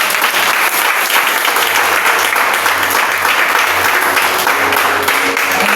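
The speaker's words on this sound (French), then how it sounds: "Est-ce qu'on peut acclamer Dieu pour ça?" A church congregation applauds in loud, sustained clapping that fills the room without a break, with crowd noise mixed in.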